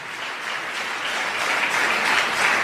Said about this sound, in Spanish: Dale un aplauso al Señor en esta tarde